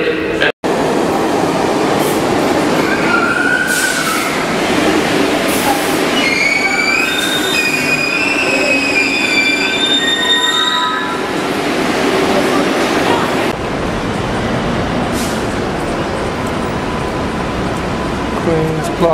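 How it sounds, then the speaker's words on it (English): A New York City subway train runs loudly throughout, with steady rumbling and rattling and high wheel squeals, while a public-address announcement and other voices are heard over the noise. "It's against the rules and very dangerous to ride or walk between train cars."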